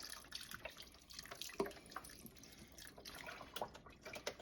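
Unsalted beef broth pours from a carton into a soup pot for hamburger soup, a continuous splashing, gurgling stream with uneven glugs, fairly close and alone without talk.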